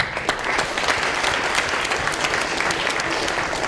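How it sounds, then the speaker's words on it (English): A crowd applauds at a city meeting on homeless initiatives, a brisk, continuous wash of many hands clapping, loud and close, lasting several seconds. "Have a round of applause for them."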